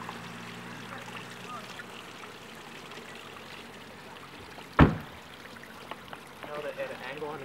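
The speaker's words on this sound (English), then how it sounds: "It's coming out of the ground and it's cold." Cold spring water flows out of the ground in the Adirondacks, a soft continuous trickle and burble heard up close, with a sudden sharp knock midway and faint voices nearby.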